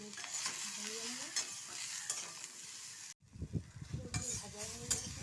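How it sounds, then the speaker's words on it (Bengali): Turmeric frying in a pan at home, a steady close sizzle with scraping stir strokes, briefly cut off midway before stirring resumes more heavily. "হলুদ দিয়ে দিয়েছি, একটু ভেজে নেব।"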